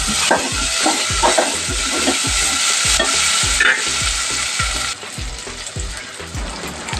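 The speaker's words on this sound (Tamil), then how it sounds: "சின்ன வெங்காயம் நல்லா வறுந்துட்டோம். தக்காளி போட்டிருக்கேன்." Shallots and tomato fry loudly in a pan, a bright continuous sizzle with a regular rhythm of stirring scrapes, the hiss easing slightly near the end.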